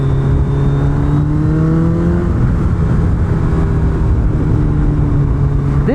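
A Suzuki Hayabusa motorcycle pulling hard in third gear, its engine droning loudly and steadily with a rising whine and heavy wind rush, heard from the rider's position without a break.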